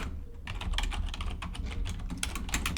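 Computer keyboard being typed on while writing Python code, a steady close run of quick clicking keystrokes with a low background hum, no voices.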